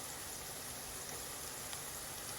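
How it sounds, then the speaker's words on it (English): Onions fry in oil in a pan for chicken tikka gravy, giving a steady, faint hiss and crackle that stays even throughout with no talking. "I have added onions, so the onions are frying."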